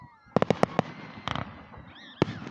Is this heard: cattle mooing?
no